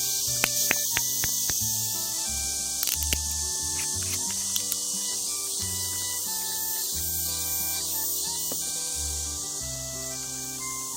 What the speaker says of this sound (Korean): 매미 소리가 많이 들려가지고 나중에 시끄러울지도 모르겠는데